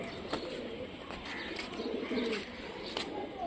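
Rajshahi Giribaz tumbler pigeons give low, soft coos amid rustling and scattered clicks, with a faint voice in the background.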